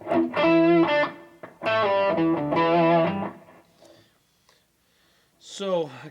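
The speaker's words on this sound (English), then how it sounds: "I can add a little reverb on that for a little ambience." Electric guitar notes through a Boss Katana 100 amplifier ring out with a reverb tail, two short phrases fading into quiet, followed by a brief breathy sound near the end.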